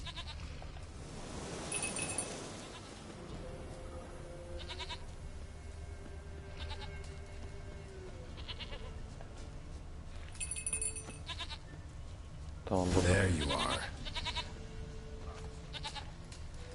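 Goat bleating in the Witcher 3 video game, a few bleats standing out over game ambience, loudest near the start and again near the end, with someone talking briefly.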